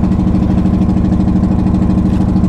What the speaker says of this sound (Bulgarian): Та V-образна машина как работи